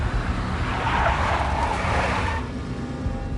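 A big black Mercedes drives and skids in the PS2 game Max Payne, with a steady, close engine and tire roar and a squealing skid that eases off near the end.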